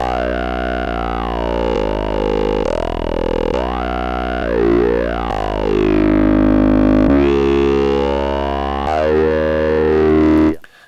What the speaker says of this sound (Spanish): lo he ido construyendo con distorsión conforme se acaba la frase